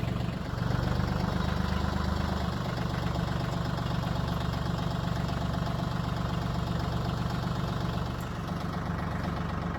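A tractor engine idles steadily and loud up close during fence stretching, a dense continuous low rumble that stays even throughout with no voices.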